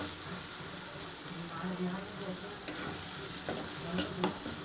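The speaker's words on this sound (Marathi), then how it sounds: "छान असं भाजून घ्यायचं। टोमॅटो नरम पडेपर्यंत।" Tomatoes fry in a pan for a potato curry, giving a dense, continuous sizzle with scraping stirs and occasional knocks of the spoon.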